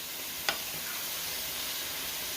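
Sauerkraut frying in a pan gives an even, soft sizzle throughout, with one brief clink of a utensil near the start. Nobody speaks.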